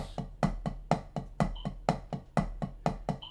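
Drumsticks tap a steady run of rebound double strokes; in each pair the first hit is clearly louder than the second.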